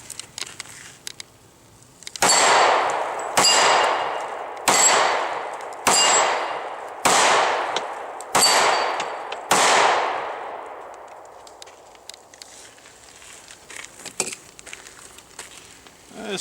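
Six sharp pistol shots from a S&W M&P Shield .40 ring out at a steady rhythm against steel targets, each crack followed by a bright metallic clang that decays, at an outdoor range, loud and close with no talk.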